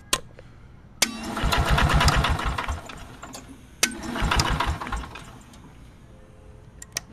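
A 5000 kW Onan generator, switched on with a toggle switch, cranks and sputters in two separate bursts a few seconds apart, each starting with a sharp click and fading out before quiet returns.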